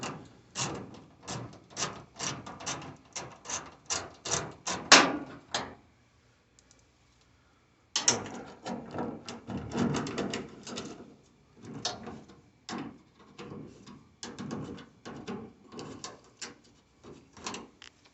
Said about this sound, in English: we're gonna go ahead and remove these screws